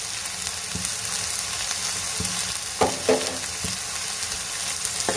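Green chillies, garlic and coriander sauté in hot oil in a pan for bangada fish curry, giving a continuous loud sizzle broken by a few soft stirring scrapes.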